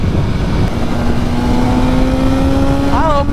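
A BMW M1000R motorcycle with a new exhaust accelerates, its loud, steady engine drone holding close throughout and rising in pitch as it revs near the end.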